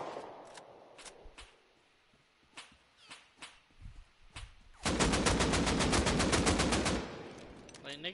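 Video game gunfire from a suppressed M2 machine gun: a few scattered single shots, then a long rapid burst of about two seconds, fairly close and sharp.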